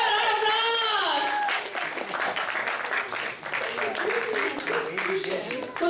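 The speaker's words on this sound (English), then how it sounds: "A round of applause!" Audience applause at an academic English program event in a hotel, a crowd clapping steadily while someone speaks loudly over it at the start.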